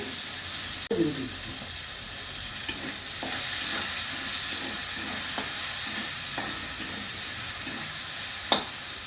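Dry chili powder frying in a pan for a taro and prawn curry, a steady soft sizzle under repeated scraping strokes of a spoon stirring at an even rhythm, with a sharp clack at the start and end.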